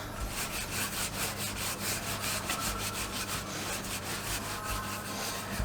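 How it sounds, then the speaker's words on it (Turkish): A wooden rolling pin rolls out pizza dough on a counter, making steady, rhythmic rubbing strokes back and forth, close and fairly loud, with no talk. "Şöyle merdane ile güzelce hamurumuzu açıyoruz."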